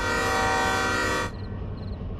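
An E16 electric locomotive horn in the train game Derail Valley gives one loud, sustained, harmonically rich blast that cuts off abruptly after about a second, leaving a low mechanical hum.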